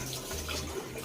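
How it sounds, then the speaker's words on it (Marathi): Water splashes at a bathroom sink during late-night shaving and face washing, a steady close rushing and spattering from the running tap with no voices over it. "आरशावरच पाणी उडवलंस."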